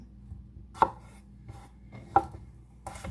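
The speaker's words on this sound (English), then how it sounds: "So we cut them in half, right?" A knife cuts through potatoes on a board, two sharp distinct chops about a second and a half apart with faint handling noise between and another softer knock at the end.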